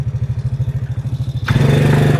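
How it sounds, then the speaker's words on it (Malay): A motorcycle engine pulses in a rapid idle-like chug, then the throttle is opened for a wheelie and it jumps into a louder, steadier roar, close to the microphone. "terus kau throttle motor tengok macam ni"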